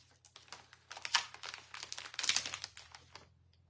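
Quick, irregular clicking of keys being typed on a computer keyboard, close and fairly quiet, in bursts lasting a few seconds in an otherwise still room.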